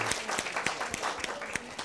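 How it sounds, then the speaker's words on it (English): A crowd claps in brisk, uneven bursts, a short round of applause at moderate volume. "Let's give a big round of applause."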